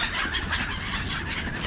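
A number of crows calling in a foggy outdoor spot, with harsh overlapping calls forming a dense, continuous, fairly loud chorus and no talking.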